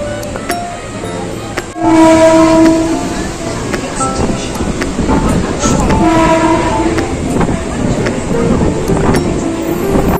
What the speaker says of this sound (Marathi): आली आपली ट्रेन.